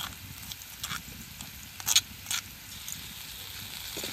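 Potatoes fry in a pan with dried red chili paste and green chili paste for a hilsa fish curry, giving a low, steady sizzle broken by a few brief scraping stirs.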